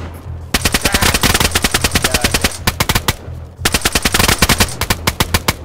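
Video game gunfire rattles out in two long, loud automatic bursts of rapid evenly spaced shots, separated by a short gap and heard alone without talk.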